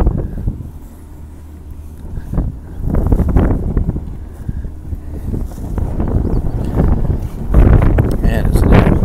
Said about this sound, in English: Man, it's a little windy over here.